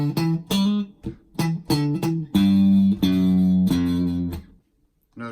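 An electric guitar and bass lock together on a repeated three-note figure, rhythmic plucked notes with short gaps, then sustained chords before a sudden stop near the end.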